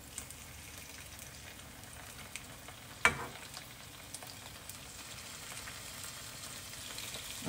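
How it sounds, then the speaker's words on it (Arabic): Onion and tomatoes frying in a pan for an omelette give a soft, steady sizzle at a distance, broken by one sharp click partway through, with no talk. "خليت البصل يتقلى 5 دقائق"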